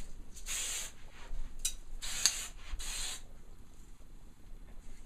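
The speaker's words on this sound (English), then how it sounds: "And then just spray this in." Hair product sprayed onto curls, several short hissing bursts from a spray can, close and fairly quiet, separated by brief pauses with faint rubbing between.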